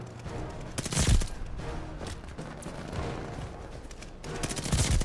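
A Type 100 submachine gun fires in a video game in rapid, dense bursts, loudest near the start and end, with a steady rattle of shots and impacts between them.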